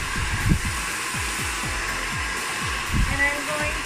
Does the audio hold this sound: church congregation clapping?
no